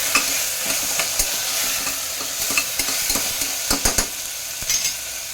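Carrots, ivy gourd and potato being stirred in a pot with ginger-garlic paste, a spoon scraping and knocking in irregular strokes over a steady close sizzle, with no voices.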